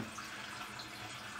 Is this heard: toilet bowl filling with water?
yes